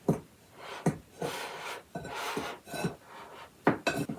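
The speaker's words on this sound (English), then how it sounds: "So I'm going to give this a stir." A utensil stirs crumbly sourdough coffee cake topping made with whole wheat flour in a bowl, giving repeated scraping and rubbing strokes with knocks against the side, close and without talk.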